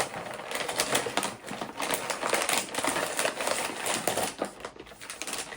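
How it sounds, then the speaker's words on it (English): Plastic packaging of a 2021 Canadian IMP ration, Menu 19 beef ravioli, is torn open by its pull tab and Ziploc-style zipper, giving a steady, close crinkling and rustling that runs throughout with no talk. "This is the new IMP style packaging, so it had this little pull tab and then a Ziploc style zipper in here"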